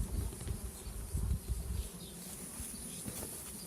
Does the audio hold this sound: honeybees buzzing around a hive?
yes